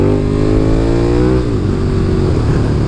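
A KTM Superduke 1290 R motorcycle pulls hard in second gear, its engine note climbing in a steady rising whine, then dropping as it eases off. The sound stays loud and close throughout.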